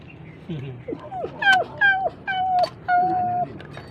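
A dog whimpers in a series of about five high, drawn-out whines, each sliding downward in pitch, close and fairly loud.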